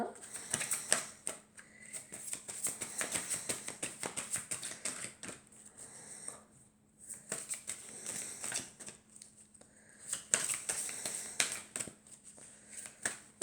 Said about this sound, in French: J'aime bien mélanger mes cartes.